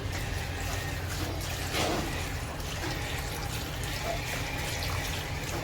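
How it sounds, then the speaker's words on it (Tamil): Water pours and trickles steadily into a pan of chicken gravy against a low background hum, with no talking. "இந்த டயத்துல நம்ம தேவைக்கு தகுந்த மாதிரி கொஞ்சம் தண்ணி லைட்டாக சேர்த்துக்கலாம்"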